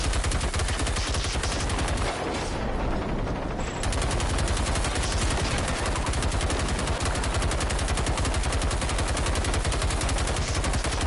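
Sustained, relentless automatic gunfire from armor-piercing rounds being poured into an enemy base in Generation Zero, loud and continuous with a dense rapid rhythm and only a brief dip partway through.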